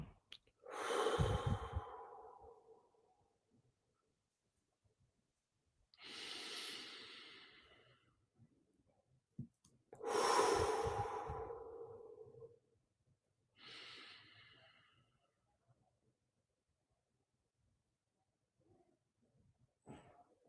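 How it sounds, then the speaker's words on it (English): Four slow, deep breaths drawn in and let out one after another with long quiet gaps, close and fairly soft, from a person in a large community gathering. "let's take like 3 big deep breaths"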